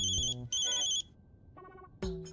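A mobile phone rings with a bright electronic melody in repeated bursts separated by short gaps, clear and fairly close, with no talking over it.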